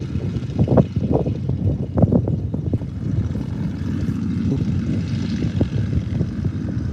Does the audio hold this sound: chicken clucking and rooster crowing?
no